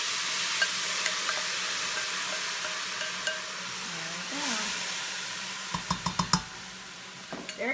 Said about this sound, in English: Hopefully we'll hear a sizzle.